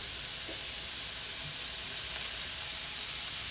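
Lean ground beef, a pound and a half, sizzling and frying steadily in a pan for homemade chili, a continuous dense crackle with no talking.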